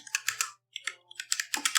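Typing on an E-Yooso Z-11 60% mechanical gaming keyboard, bursts of crisp close key clicks in quick clusters separated by brief pauses.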